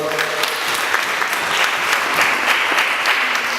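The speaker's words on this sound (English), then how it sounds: "please give Phil a big round of applause" Loud, close round of applause from an audience at a non-violence community event, brisk and continuous clapping throughout.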